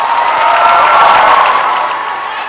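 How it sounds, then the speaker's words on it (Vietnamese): Audience applause and cheering fill a studio hall for performers Mỹ Lệ and Khương Ngọc at the 2013 Cặp Đôi Hoàn Hảo finale, a steady, dense wash of clapping with crowd noise that holds evenly throughout. "Một tràng pháo tay nữa cho Mỹ Lệ và Khương Ngọc."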